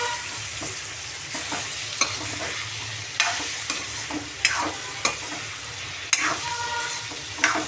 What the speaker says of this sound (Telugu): దొండకాయ ఫ్రై చేస్తున్నా